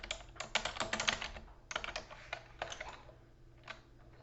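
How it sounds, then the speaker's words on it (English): Typing on a computer keyboard, a close, quick patter of clicking keystrokes in uneven bursts with short pauses, fading toward the end, with no talking. "Too many zeros when I'm typing."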